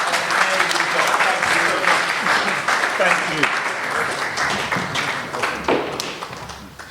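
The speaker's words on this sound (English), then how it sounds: "Can we just give them a round of applause?" An audience gives a dense, sustained round of applause that fills the room and tapers slightly toward the end, with a voice speaking briefly over it.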